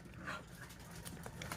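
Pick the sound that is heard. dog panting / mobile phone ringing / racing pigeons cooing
dog panting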